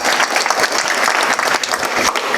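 An audience claps at a devotional kirtan, dense sustained applause from many hands filling the space loudly and evenly from start to end.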